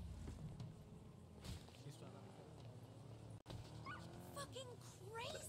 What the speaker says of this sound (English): Yeah, wait, there was a dog.